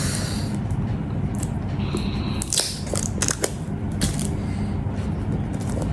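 Close crinkling and tearing of packaging with scattered sharp rustles and snaps as a 360 gimbal box is opened, with no talk heard.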